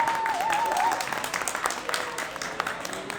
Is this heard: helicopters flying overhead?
no